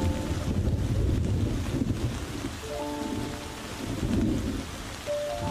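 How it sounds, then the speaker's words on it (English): Thunderstorm over Hluhluwe-iMfolozi park in Africa: heavy rain pours continuously with deep rolling thunder swelling and fading, loud and close, and no voices. "Rain falls in a deluge across the park, adding to the water holes and pans."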